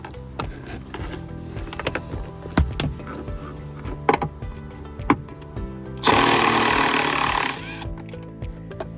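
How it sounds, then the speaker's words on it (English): On a Jeep JL or JT center console, scattered clinks, taps and ratchety clicks of a screwdriver and 10mm socket sound at close range, then a loud burst of noise lasts about a second and a half. "Use a screwdriver to pop the screw cover off and remove the bolt with a 10mm socket"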